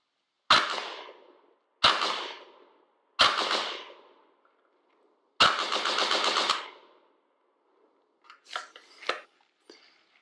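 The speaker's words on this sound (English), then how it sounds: "the Vickers-Berthier light machine gun." A Vickers-Berthier light machine gun fires several sharp, loud bursts outdoors, each short volley ringing out and fading, with one longer rattling burst and fainter distant shots trailing after.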